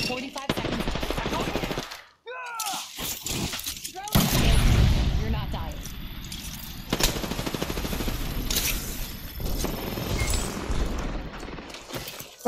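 Rapid automatic gunfire bursts and single shots crack through a battle in the Apex Legends battle royale game, with breaking-glass-like impacts and voices talking throughout.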